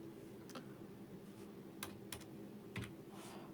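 Typing on a computer keyboard, soft scattered key clicks in short uneven bursts, quiet and close, with no talk.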